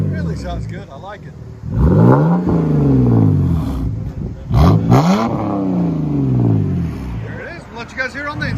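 Exhaust of a 2010 BMW 128i fitted with a Cherry Bomb glass pack, revved hard in two loud, close swells that climb and fall back to a rumbling idle.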